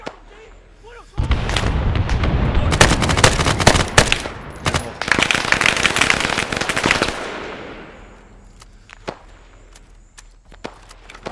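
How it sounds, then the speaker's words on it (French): Heavy machine gun fire in ArmA 3 roars in dense, sustained bursts mixed with booming impacts for several seconds, then fades to scattered, distant single shots. "il y a une mitrailleuse lourde dans le village"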